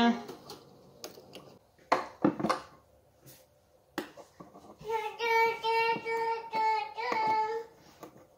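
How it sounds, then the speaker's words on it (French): Milk with cinnamon being frothed in a home kitchen: a few clicks and clinks of utensils come first, then a steady whirring froth with a tonal hum runs for several seconds, with soft speech faintly underneath. "Je mets un petit peu de cannelle dans mon lait directement. Je trouve que ça se mélange mieux. Et on mousse."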